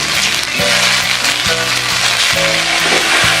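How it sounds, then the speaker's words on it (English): Ginger garlic paste sizzles and fries steadily in a hot pan, a loud continuous crackle with no talk, while a repeating low musical pattern plays underneath. "Saute, and now add in ginger garlic paste."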